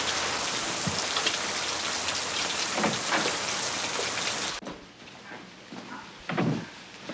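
Heavy rain pours steadily outside a house during a scene from a 1982 drama film, a dense close hiss that drops abruptly to a quieter patter, with a few knocks and thuds over it.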